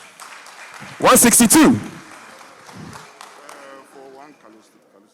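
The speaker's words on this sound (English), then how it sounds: "If you're not buying, you're clapping." Audience applause breaks out at a book launch auction in Ghana, a loud burst of clapping lasting under a second before an auctioneer's voice continues calling bids over a murmuring room.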